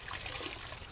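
Water mixed with a little clothes detergent trickles and pours steadily, a continuous close splashing stream used for cleaning mold from a 2015 Kia Optima.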